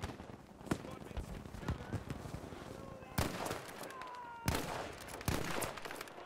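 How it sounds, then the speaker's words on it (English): Gunfire in Battlefield V, with several sharp, loud shots and bursts spread across the moment, sounding over continuous battle noise and a player talking. "I shot him twice"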